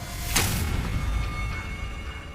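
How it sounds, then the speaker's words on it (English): A loud sharp gunshot stands out early, followed by a rumbling, crackling wash of shattering glass that trails off over the next couple of seconds. "You hear gunshots, then you hear the glass shatter."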